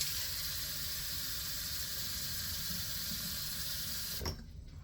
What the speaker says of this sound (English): you're going to want to add about a half cup or a full cup of water